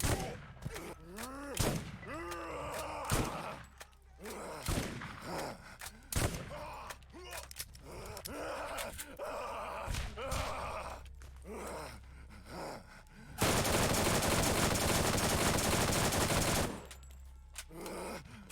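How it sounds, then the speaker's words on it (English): Rapid SMG gunfire in the shooter game Borderlands, with repeated sharp bursts and groans and gasps mixed in, then a dense, steady wall of sustained automatic fire toward the end. "I'm not just using this SMG. Dude, this SMG kicks ass."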